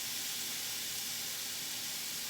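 Raw salt-and-peppered shell-on shrimp and tilapia sizzling in a hot pan, a steady close hiss of frying that holds evenly throughout, with no voices.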